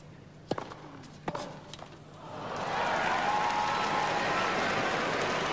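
A tennis crowd at the 2003 Australian Open, during Mark Philippoussis versus Paradorn Srichaphan, swells into a loud, sustained roar after a few sharp thuds in a quieter arena.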